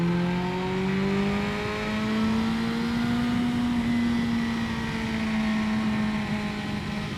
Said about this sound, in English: really feel this thing starting to pull after 8-9 grand